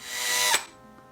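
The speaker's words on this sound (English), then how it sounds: "So now we're going to pre-drill our holes." A power drill whines at high speed while pre-drilling holes for sliding pegboard hardware, building for about half a second before cutting off abruptly, followed by faint quiet.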